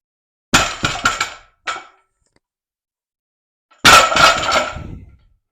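An Eleiko barbell dropped onto an Eleiko SVR deadlift platform lands with sharp metallic crashes and rattling sleeves, a quick cluster of bounces fading out, then after a pause another loud drop with a longer jangling rattle.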